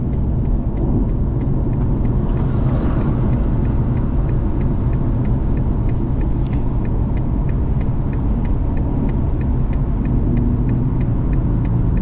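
BMW M240 engine pulling hard on the Spa track, a dense, steady drone heard from inside the car at constant loudness, with faint clicking ticks over the rumble.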